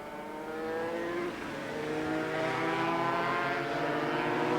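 250cc racing motorcycles at Brands Hatch scream past in a sustained high-revving engine roar that builds steadily and stays loud throughout, with no talk over it.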